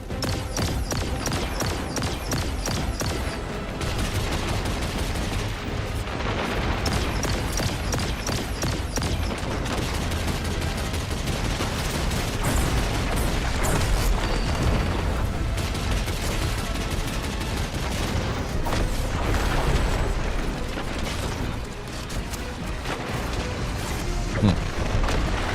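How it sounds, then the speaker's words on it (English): Gunfire in the medieval game Kingdom Come: Deliverance 2, repeated shots and heavy booms mixed with mechanical clatter, sustained and fairly loud throughout. "A lot of firepower being slung at me."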